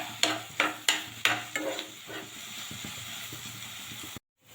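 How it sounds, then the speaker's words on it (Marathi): Onion and tomato cooking in oil in a pan, several loud spatula scrapes and knocks at the start giving way to a steady hissing sizzle that cuts off abruptly near the end. "एक पॅन घेतला, त्यात तेल टाकलं, कांदा टोमॅटो टाकून व्यवस्थित शिजवून घ्यायचं."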